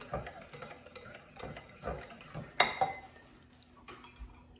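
A spoon stirs a rice pudding mixture just after vanilla is added, giving repeated scraping, clinking strokes against the pot in a steady rhythm, with one sharper clink midway, close and fairly loud.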